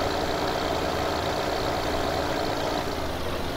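Fendt tractor engine idling in Farming Simulator 15, a steady, thin, tinny mechanical drone lacking bass that holds at an even level throughout with no voices.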